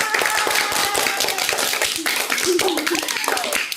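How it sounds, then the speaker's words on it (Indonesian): Children clap a short, loud rhythmic spirit clap in unison during a storytelling session, with voices calling out over the quick patterned beats. "Kakak mau tepuk semangat, tepuk yang paling keras, oke?"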